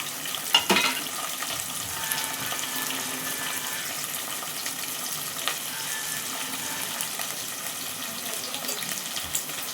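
Chopped onion, green chilli and carrot pieces frying for sooji upma, a continuous moderate sizzle with a few sharp stirring knocks near the start and scattered clinks.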